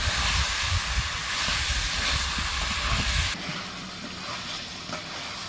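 Potato, jackfruit and chicken fry with spices in a pan for a Bengali lunch, giving a steady loud sizzling hiss that drops to a quieter simmer partway through.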